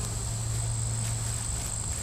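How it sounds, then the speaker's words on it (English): Calm worker and guard honeybees hum steadily at a hive during a summer inspection of a weak colony, producing a constant, close buzzing drone with no breaks. "those are calm worker bees guard bees"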